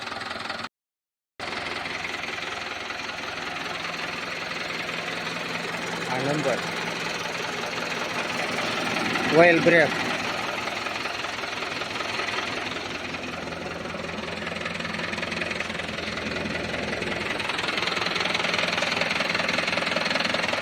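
A 2016 Swaraj 841 XM tractor, 42 horsepower, idles with a steady, slightly knocking diesel rumble that runs nearly throughout after a brief cut near the start, while someone talks over it.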